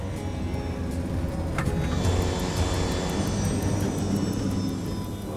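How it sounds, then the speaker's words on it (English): Jet airliner engines drone steadily inside the cabin as thrust is pulled back on approach in poor visibility, a continuous broad roar with a faint whine and a slight easing in power. "The captain pulls the thrust levers back to reduce power"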